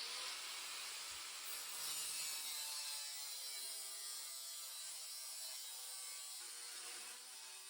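A fender piece for a Volvo BM 430 tractor restoration being cut to length, a steady, rasping, slightly ringing cutting noise that continues without break at moderate distance, with no talking.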